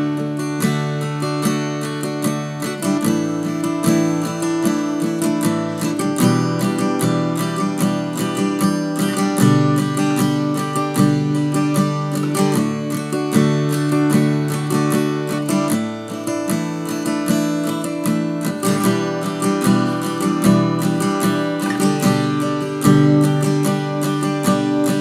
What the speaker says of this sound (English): it goes to a really softly strummed chorus progression just played at the end of the song